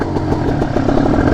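Motorcycle engine running steadily in first gear with the clutch held just at the point of moving off, a loud, close, throbbing idle with slight rhythmic pulsing and no talk over it.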